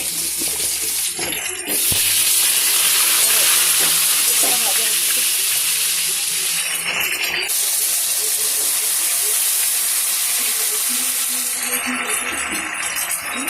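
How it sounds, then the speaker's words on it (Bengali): Kohlrabi pieces fry in hot oil with a loud, continuous sizzle and hiss, steady throughout with a couple of brief dips. "এবার ওলকপিগুলো ভেজে নেব"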